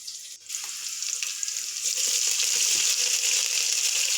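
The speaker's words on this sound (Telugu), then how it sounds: "తర్వాత మనం దంచి పెట్టుకున్న గరం మసాలా పేస్ట్ వేసుకోవాలి" Ground garam masala paste dropped into hot oil with onions and green chillies for mutton curry, a sharp burst of sizzling that swells into a steady bright crackle and holds loud throughout.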